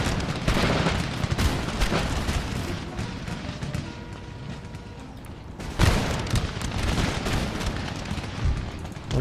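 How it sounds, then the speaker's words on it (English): Cannon fire from Empire: Total War pounds at a regiment of foot, with repeated heavy booms and rumbling volleys that crowd the battlefield, including a loud burst near the end. "Cannons fire on the regiment of foot."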